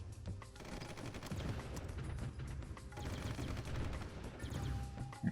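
Sustained volleys of gunfire from units shooting back in the strategy game Supreme Ruler Ultimate, a dense crackle of rifle and machine-gun fire with low rumbling thuds, continuous and moderately distant.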